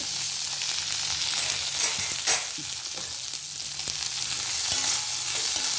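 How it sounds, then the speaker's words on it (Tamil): Cluster beans sauté in a pan with a couple of drops of oil for usili, giving a continuous bright sizzle with occasional stirring scrapes and taps, no voices. "இதை நல்லா வதக்கிட்டு காமிக்கிறேன் நல்ல வாசம் வர்ற அளவுக்கு வதக்கணும்"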